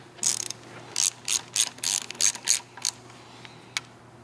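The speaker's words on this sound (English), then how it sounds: "I'm gonna torque this down to 8 newtons" A torque wrench ratchets in short bursts of clicks while tightening a bolt on a Tesla motor seal, about eight quick clicking runs close up with a final lone click, no talking.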